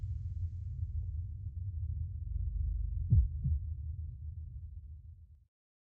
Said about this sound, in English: My heartbeat quickens.